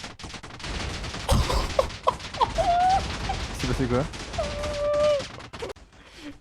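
Rapid bursts of video game explosions and gunfire crackle over one another, mixed with whistling and squealing effects, while someone talks in between.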